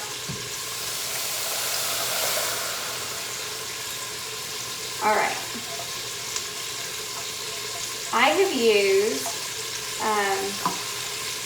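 Chicken broth poured into a hot frying pan of pork chops: a steady frying sizzle with a hiss that swells early on, joined by a few bursts of speech in the second half.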